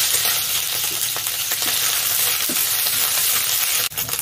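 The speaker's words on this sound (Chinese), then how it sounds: "锅热放入肥肉，爆爆，要少少油脂，让它香一点" Pork fat fries in a hot wok with a dense, steady crackling sizzle and occasional stirring knocks, close and loud, ending with a brief sharp drop near the end, with no talking.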